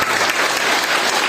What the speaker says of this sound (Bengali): আমার নিজেদের জন্য জোরে হাততালি দিই